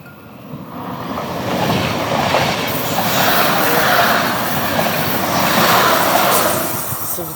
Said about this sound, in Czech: Se vždycky tak leknu, jak jede ten vlak.